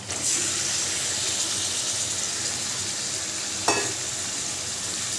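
Marinated country chicken sizzling loudly in a pan of reddish fried onions, a continuous close hiss broken by one brief knock of a utensil.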